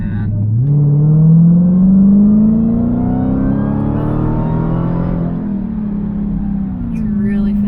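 A Dodge Challenger R/T Hellcat Redeye accelerates hard from about 30 mph, its supercharged V8 rising in a loud, rising roar through a gear change, heard from inside the cabin.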